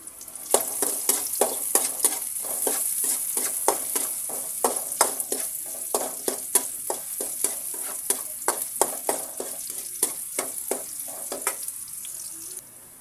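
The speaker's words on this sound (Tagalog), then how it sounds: "Yan, piniprito po natin yung patatas" Potatoes frying in a pan for pork igado: a constant close sizzle with rapid, repeated stirring and scraping taps against the pan throughout.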